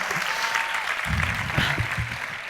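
Canned applause sound effect in a comedic home sketch, a steady wash of clapping that swells and stays loud through the whole stretch, with faint murmuring underneath.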